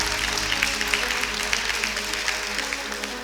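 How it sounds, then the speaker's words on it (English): Applause at a virtual graduation ceremony, a thin, steady patter of clapping with faint individual claps, over a low constant hum. "A round of applause for Memola Tedi."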